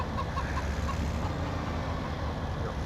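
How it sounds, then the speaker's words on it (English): Chickens cluck faintly in Farming Simulator 17, a few soft clucks over a steady, rumbling vehicle engine drone. "Watch out for the chickens."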